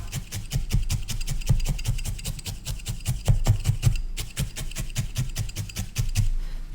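Felting needles stab repeatedly into wool while shaping a felted fox, making a fast, even series of close, scratchy pokes that continue with no talk.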